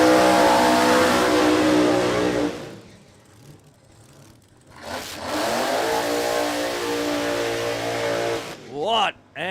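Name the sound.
blown rear engine dragsters racing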